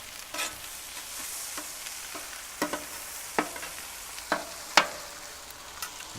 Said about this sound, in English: The plaice is really thin, so it's going to be a very quick process to fry it.